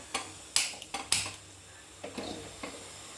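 Metal pan set down on a home kitchen stove before cooking a tamarind curry, a few light clanks and scrapes of metal on the burner grate, close and quiet in a still room.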